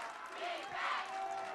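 Football crowd at a Campolindo versus Rancho Cotate game, a broad steady roar of many voices rising and swelling in cheers, fairly loud and continuous throughout.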